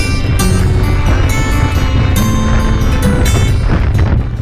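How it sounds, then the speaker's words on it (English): Strong wind buffeting the microphone on a mountain summit in the Torridon hills of Scotland, a loud, continuous roaring rush with gusting surges throughout and no voices. "the wind really picked up"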